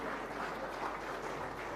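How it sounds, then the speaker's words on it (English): A conference audience in Visakhapatnam claps for four student helpers at a deep tech innovation conclave, a short, steady, dense patter of many hands heard at moderate volume. "Please give them a round of applause to the students."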